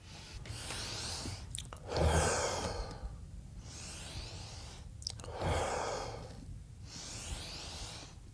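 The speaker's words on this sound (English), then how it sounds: "So I'm going to breathe in" A person breathing in and out slowly during a beginner full-body workout, with long audible inhales and exhales repeating in a steady rhythm, close and fairly quiet with no talking.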